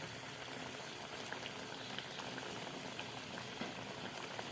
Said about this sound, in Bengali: এবার ফুটে উঠলে আমি এটাকে একটু ঢেকে রাখবো